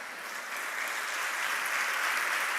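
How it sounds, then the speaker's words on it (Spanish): Church congregation applauding during a sermon, a broad wash of clapping that swells slightly louder as it goes, heard from a distance with no voices on top. "Aplauda más fuerte"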